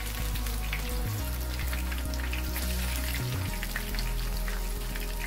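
Spicy marinated fish frying in a pan, a steady dense sizzle with crackling pops throughout, close and continuous with no talking.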